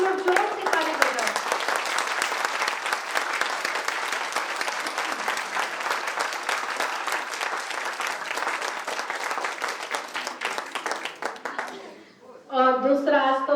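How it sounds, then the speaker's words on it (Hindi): Loud sustained audience applause at a Brahma Kumaris gathering in Bahadurgarh, dense clapping from a large crowd lasting over ten seconds, ending abruptly as a voice resumes speaking. "इनके लिए आप लोग जोर से ताली बजाओ।"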